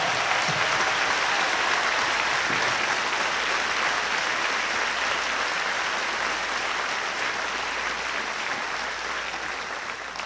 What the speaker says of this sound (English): let's give a large round of applause for this graduating class